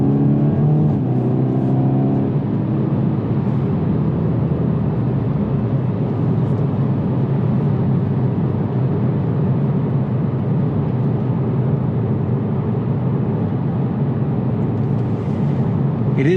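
A 2021 Toyota Supra with a 2.0 engine drives and accelerates, giving a loud, continuous engine drone with road and tyre roar from inside the cabin and a rising pitch early on.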